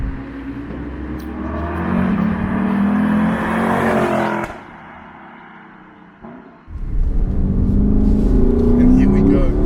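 A 2020 Lexus LC500 V8 accelerates hard on a California road, its engine swelling into a loud, rising roar, dropping briefly during a shift or lift-off, then surging again, heard from inside the car with a voice speaking over it.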